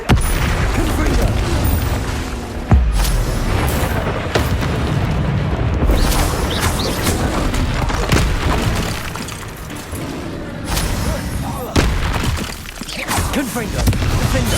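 Loud, dense Confringo blasting-spell explosions in Hogwarts Legacy, booming one after another in a continuous roar of blasts and crashes, with a voice shouting over the fighting.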